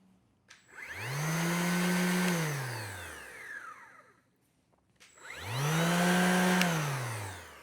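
A Milwaukee 2648-21 cordless random orbit sander running on high over a door spins up, whirs steadily for a few seconds, winds down, then starts again for a second run, loud and close with no talking.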